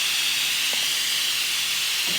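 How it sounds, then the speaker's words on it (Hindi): Loud, steady high-pitched hiss of steam escaping under pressure from a pressure cooker with its whistle removed, continuous and close, with no talking. "अब इसके ऊपर से सीटी उतार देंगे हम और इसकी गैस निकाल लेंगे।"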